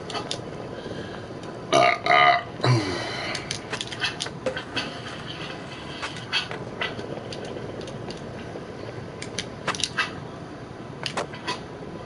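Loud repeated burps from a man, a couple of strong deep belches early on followed by scattered smaller bursts and clicks over a steady background hiss.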